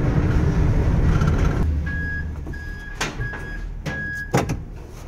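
A 2006 Ford E-250 three-quarter-ton work van turns around, its engine rumbling steadily before settling, followed by a few sharp knocks and a steady high electronic chime, without voices.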